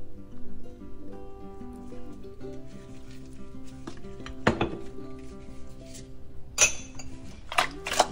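Oxtail is mixed by hand with soy sauce, balsamic vinegar, lime juice and browning in a dish, giving soft clinks and scrapes against the bowl and a few sharper knocks near the end, with no talking.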